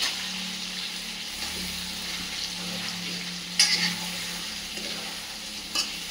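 Chicken frying in a large pan is stirred over the heat, giving a continuous close sizzle with a low hum underneath and two sharp clinks of the spoon against the metal.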